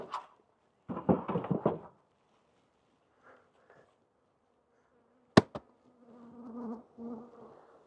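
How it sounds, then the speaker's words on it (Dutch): Honeybees buzz from an open hive box at an apiary, coming in close, uneven bursts of droning with a sharp knock partway through and a steadier hum near the end. "Ja, mooie bak bijen."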